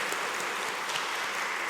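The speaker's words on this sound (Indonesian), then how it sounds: "Tepuk tangan untuk mempelai Bapak Ibu" Brief, steady applause for a bride and groom at a Catholic wedding in St. Maria Materdei Church; a soft wash of many clapping hands with no voices.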